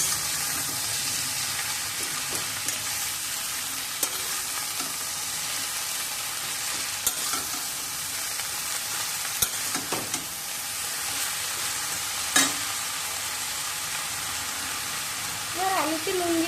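Ridge gourd and pumpkin shoots sauté in a pan, with a steady soft sizzle and occasional clacks of stirring. A voice talks now and then over the continuous frying.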